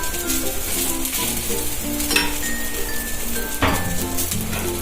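Potato patties frying in oil on a pan over a low gas flame for ketless chaat, a continuous close crackling sizzle with a few faint clinks, no talking.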